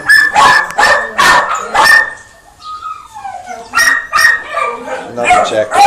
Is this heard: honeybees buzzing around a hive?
no